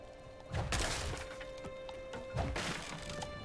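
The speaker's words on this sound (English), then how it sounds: "Oh, I can smash this stuff." Breakable objects smashed in the video game Diablo 4, two loud wooden splintering crashes about two seconds apart, close and unaccompanied by talk.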